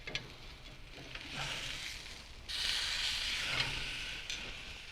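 Bison ribeye searing on the grill grates of an open-range pit just after flipping, a soft steady sizzle and hiss that swells after a brief clatter partway through.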